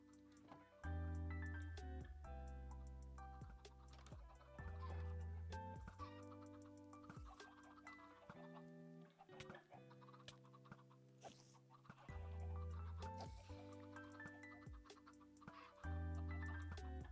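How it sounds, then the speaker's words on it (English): Baby chickens clucking and cheeping over a steady backing of rhythmic music, their calls coming in short bursts throughout with brief quieter gaps. "there's actually too many baby chickens in there now"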